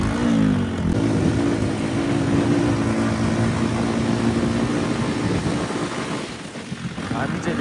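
A motorcycle rides along the rough Upper Mustang road in Nepal, its engine droning steadily and loudly over wind rumble, then easing off slightly near the end.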